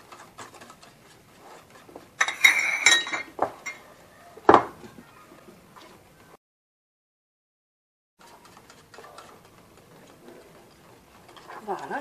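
A utensil stirs a gelatin mixture in a bowl, giving light scraping and clinking with one sharp clink, then a pause before faint, scattered stirring sounds resume.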